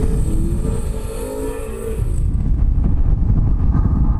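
A Subaru WRX STI on the road speeds up with rising engine revs, a loud close roar that climbs in pitch for about two seconds and then settles into a rough, steady drone.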